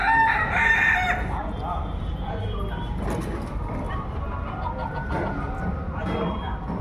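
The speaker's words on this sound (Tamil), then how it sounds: "ஒரிஜினல் நாட்டுக்கோழி பாருங்கள்" Country chickens (naattu kozhi) at a shop, with a rooster crowing loudly and close at the start, then clucking and further crows over a busy, noisy background.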